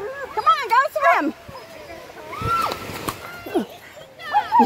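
A husky or malamute splashes and sloshes through water at Amicalola Falls, several watery splashes at close range, mixed with people talking and calling to the dog.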